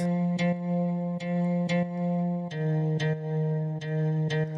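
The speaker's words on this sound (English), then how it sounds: "this is now like a little guitar" A synthesized guitar-like tone plays a simple repeating melody, plucked notes sounding at a steady pace with effects-laden, slightly chorused timbre.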